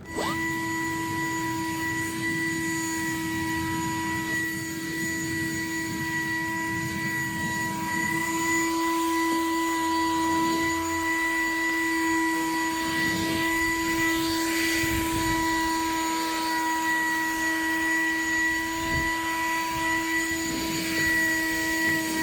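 A Black & Decker 60V cordless leaf blower clears about two inches of powdery lake-effect snow, giving a steady, loud, high-pitched electric whine with airy rushing that holds throughout, with no talk.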